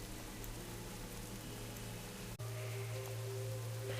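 Steady rain in the World of Warcraft video game, a constant hiss of falling drops with a low hum beneath, continuous and even throughout, no voices.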